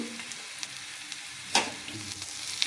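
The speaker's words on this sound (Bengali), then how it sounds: "এখানে কড়াই সর্ষের তেলটা গরম হয়ে গেছে, আমি এবার পেঁয়াজ কুচোটাকে দিয়ে দিচ্ছি" Chopped onion frying in hot mustard oil in a wok gives a steady close sizzle, with a few brief louder spits and one sharp crackling burst partway through.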